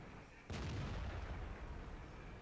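A single tank cannon shot booms in World of Tanks gameplay, a sudden broadband blast followed by a rumbling tail, fairly faint under the game's background noise.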